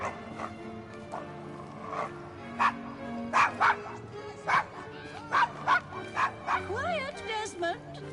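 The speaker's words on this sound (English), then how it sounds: "Is your dog quite all right?" Desmond the dog barks repeatedly in sharp, uneven bursts at moderate distance, with a rising squeal or honk-like yelp toward the end over a low background hum.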